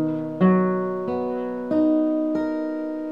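Acoustic guitar playing a chord, with one string tuned up: four sustained strums roughly evenly spaced, each ringing out with clear harmonics, close and alone with no talk.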